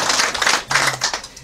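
Guests clapping at a wedding in Kota Baru, a quick, busy patter of many hands at close range that eases briefly and then picks up again.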